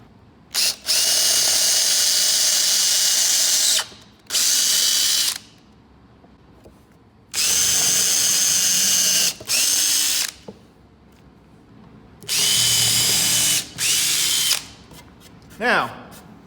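A rechargeable drill drives screws into wood in several loud bursts of a few seconds each, with short quiet gaps between them and a ratcheting whir as each screw seats.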